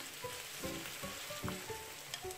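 Chopped garlic frying with softened onion in a pan, a steady quiet sizzle with soft stirring scrapes of a spoon, faint and continuous.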